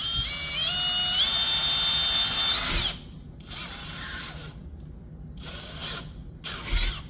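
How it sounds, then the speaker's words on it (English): A power drill bores a screw hole for a Kwikset Montara front door lock, whining steadily and rising in pitch for about three seconds, then stopping and restarting in a few short bursts, close and loud with no talk. "We're going to drill a hole and screw it in."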